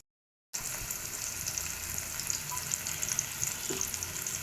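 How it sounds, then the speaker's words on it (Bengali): Pointed gourd (potol) pieces frying in oil in a wok, a steady close sizzle with crackling pops that begins abruptly after a brief silence and holds evenly, no voices. "পটল বসাই দিছি।"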